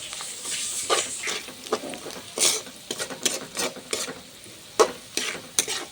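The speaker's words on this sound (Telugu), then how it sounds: "సాల్ట్ పసుపు వేసి ఒకసారి కలపండి." A spoon stirs salt and turmeric into frying onions in a pan: irregular close scraping strokes over a soft sizzle.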